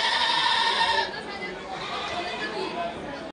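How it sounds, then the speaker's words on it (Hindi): At the Chakan goat market, goats bleat loudly for about a second, then fainter animal cries carry on under crowd chatter and voices. "चाकन की बकरा मंडी में"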